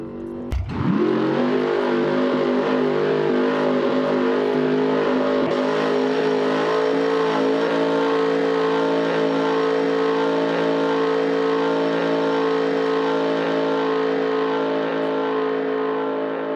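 A cammed LS3 V8 in a restored 1968 Camaro street car in a driving simulator fires up and revs, then holds a loud, rough, steady high-rpm drone for the rest of the stretch with no talk.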